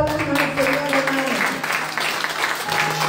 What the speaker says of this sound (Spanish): Dele aplausos al Señor, hermano.